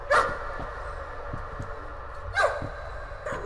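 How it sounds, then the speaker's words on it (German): Dog barking in the horror video game Layers of Fear, two sharp bark bursts about two seconds apart over a low rumbling ambient background, with softer thuds in between. "Okay, bellt noch weiter."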